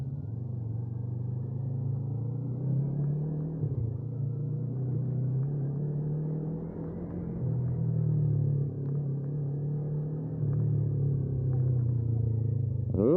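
Yamaha MT-03 motorcycle engine easing off the throttle on a ride, a steady close low rumble that dips and swells slightly as the revs fall away, with no voices.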